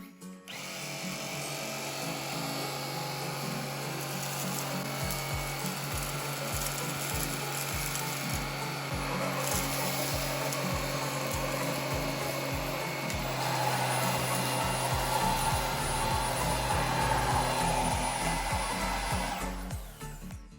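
A Xiaomi Jimmy JV65 Plus stick vacuum runs with its carpet brush, making a loud, steady motor whine that continues unbroken for about twenty seconds and shifts slightly in pitch partway through.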